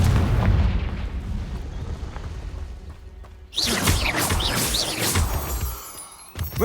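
Confringo blasting curse explosions in the wizarding video game Hogwarts Legacy, a rumbling boom fading out before a sharp second blast bursts with crackling, shattering debris, loud and close.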